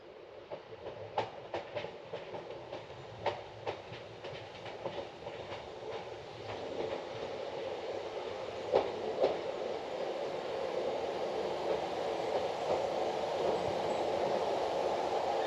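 Two-car Class 150 Sprinter diesel multiple unit rolling into a rural station, a steady rumble building with rhythmic clickety-clack of wheels over rail joints early on, growing louder and closer as it arrives, no talk.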